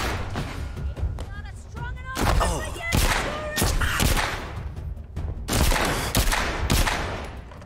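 Gunfire in the VR game The Walking Dead Saints and Sinners comes as a series of sharp, loud shots and thuds in irregular bursts, with a voice speaking briefly between some of them.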